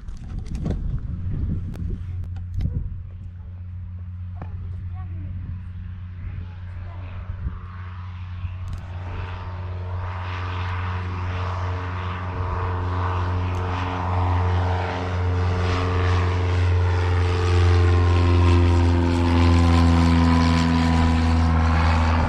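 A Remus light aircraft, German-built, runs its propeller engine at an airfield in Stechow-Ferchesar in summer, a steady drone that swells louder and higher as it powers up for takeoff, continuous and close.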